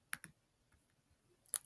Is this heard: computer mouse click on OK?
yes